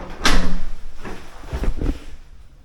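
The front door of a house opens with a soft thump and a brief swishing scrape, followed by two quieter knocks and rattles, heard close up in a quiet interior.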